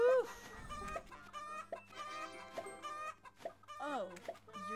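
Cartoonish chicken clucks and squawks from a Roblox egg farm simulator game repeat in quick, close bursts over a steady background hum and game tones.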